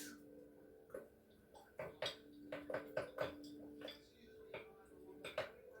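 A utensil scrapes and clinks against a pan while stirring a Mexican leftovers casserole, irregular metallic taps and knocks at close range, fairly quiet with no talking.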